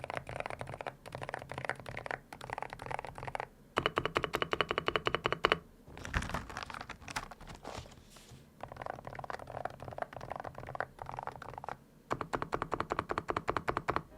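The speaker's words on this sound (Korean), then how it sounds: "이 정도의 타건음 차이가 난다라는 거를 제가 알려드리고 싶어가지고 다시 녹음을 해봤고요" Steady typing on an SPM PL108W pink mechanical keyboard with its cover fitted, a muffled run of close key clacks in bursts and pauses, with no voices.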